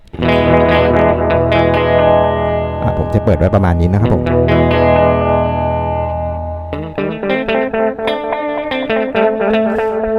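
Distorted electric guitar through an Electro-Harmonix Tone Tattoo pedal with gain raised rings out loud and close, with sustained chords giving way to choppy strums, while someone speaks briefly.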